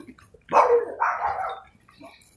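Dogs at a residence bark loudly and close by, two sharp, drawn-out barks in quick succession, with no talking underneath.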